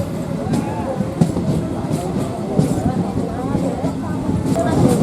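A train rolls steadily toward Canning railway station, a continuous rumble of carriage noise with faint rail clatter and occasional louder knocks, with passengers talking throughout.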